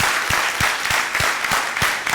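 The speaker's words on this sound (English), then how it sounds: "Give them a round of applause." A conference keynote audience applauds, steady dense clapping with a few louder individual claps standing out.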